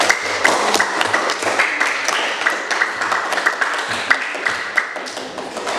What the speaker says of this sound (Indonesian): Baik, tepuk tangan untuk kita semua.